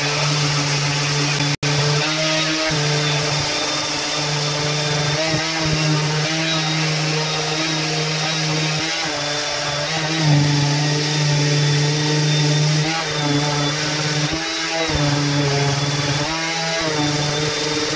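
A power sander works on wood in a Shetland project workshop, a steady loud motor drone running throughout with small shifts in pitch as the sander presses and moves across the surface.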